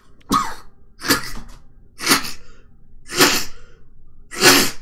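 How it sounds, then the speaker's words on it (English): Five sharp, forceful bursts spaced about a second apart, close and loud, like repeated sneezes or coughs with no talking. "Oh my god, why do I sneeze every day?"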